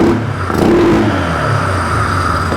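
A Polaris Sportsman ATV engine fires up and revs, a close, loud burst followed by a steady mid-pitched running drone with a faint whir.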